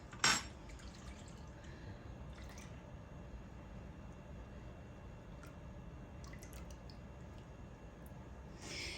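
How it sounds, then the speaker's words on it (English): A whole can of cream poured into a bowl for a tres leches cake gives a faint, steady liquid trickle and soft splashing under kitchen room noise, with a small clink at the start. "Now I'm going to pour that whole can of cream in here."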